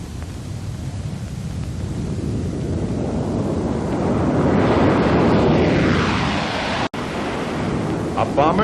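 A B-47 Stratojet jet bomber roars past, swelling from a steady rumble to a loud broad whoosh as it nears and then fading, with a brief dropout near the end.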